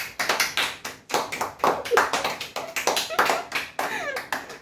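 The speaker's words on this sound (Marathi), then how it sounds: "हे बघा खाली बसून टाळ्या वाजवत आहेत" Children sit on the floor clapping their hands outdoors during rain. Bursts of fast, uneven claps come close and loud with short gaps between them, and faint voices can be heard underneath.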